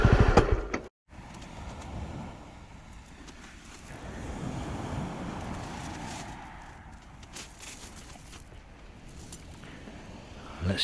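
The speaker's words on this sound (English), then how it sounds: "Let's just take a moment and just contemplate the sea." Sea waves wash and roll against the shore, a steady broadband surf with gusts of wind buffeting the microphone, swelling and easing across the stretch with a sharp gap near the start.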